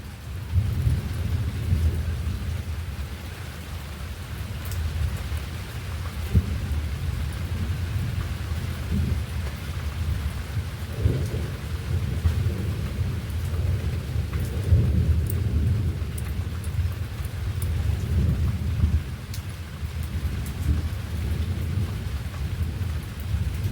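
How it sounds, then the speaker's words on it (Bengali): Heavy rain pours steadily outside during a thunderstorm, with low rolling thunder rumbling throughout; a continuous, dense wash of sound with no voices. "প্রচুর বৃষ্টি হচ্ছে বাইরে।"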